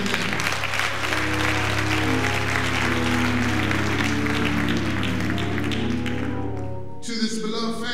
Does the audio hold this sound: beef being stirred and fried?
no